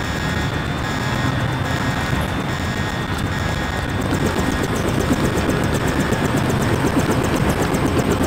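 Helicopter in the video game Deus Ex, a continuous loud rotor and engine roar with a rapid chopping pulse that grows stronger partway through, no talking.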